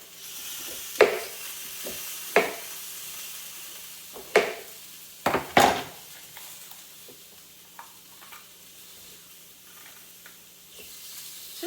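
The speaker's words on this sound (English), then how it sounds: "We'll just listen to its sweet sizzles for a little while." Chicken sizzles steadily in a pan on the stove, a soft continuous frying hiss broken by several sharp pops and clanks of stirring early on, then settling into a quieter, even sizzle.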